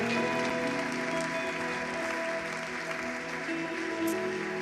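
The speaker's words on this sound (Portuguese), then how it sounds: "Dê uma salva de palmas ao Senhor." Church congregation applauding together, a steady dense wash of clapping that fills the whole stretch at even loudness with no talk.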